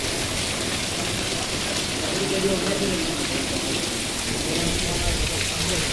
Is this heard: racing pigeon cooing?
no